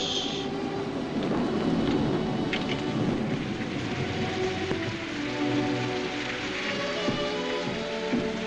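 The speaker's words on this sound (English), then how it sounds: "Raining quite a bit out, isn't it?" Steady rain pours down outside, a dense continuous hiss with scattered drips and patters close by, no voices.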